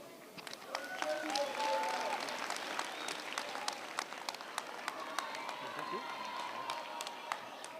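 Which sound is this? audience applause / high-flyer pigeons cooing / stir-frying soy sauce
audience applause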